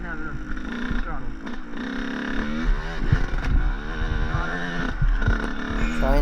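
A dirt bike engine revs under throttle in first gear, a rough fluctuating drone rising and falling close by, with people talking over it.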